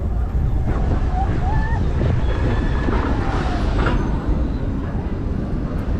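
An old, forceful amusement park ride at Europa Park, heard from the back seats as a continuous loud rumble of rattling and rushing wind, with a person talking over it.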